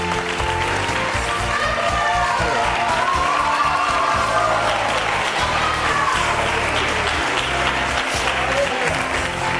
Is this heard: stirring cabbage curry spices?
no